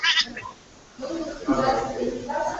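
A mother goat bleating in a barn, a short wavering call heard close by amid people talking quietly nearby.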